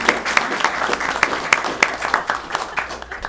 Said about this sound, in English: We should clap.